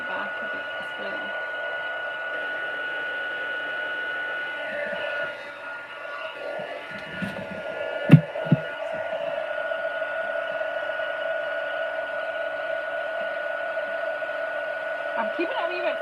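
A steady, loud whoosh of a heat tool blowing hot air onto a stamped card for a papercraft project, continuous throughout, with a brief dip and a couple of faint knocks partway through.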